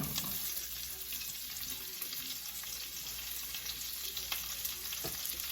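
Onions sauté with cabbage in a pan, a fairly faint but steady close sizzle with soft stirring scrapes and a few light clicks, no voices.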